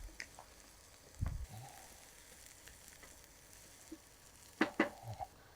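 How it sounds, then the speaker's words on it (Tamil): Onions sautéing lightly in a pan for an okra and prawn curry, a faint steady sizzle with a few soft scraping stir sounds and clinks near the end. "ஒரு 4லேருந்து 5 நிமிஷம் லைட்டாக வதக்கி எடுத்துக்கோங்க"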